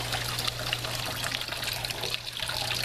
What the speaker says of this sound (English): We'll turn the water on and see if this one is functioning okay.